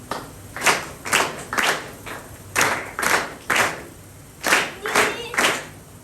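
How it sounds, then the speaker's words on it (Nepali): Church congregation clapping hands in praise in short rhythmic bursts of sharp claps, grouped in counted sets with brief gaps between, loud and close. "बत्ती आएकोमा परमेश्वरलाई ताली बजाएर धन्यवाद दिनु"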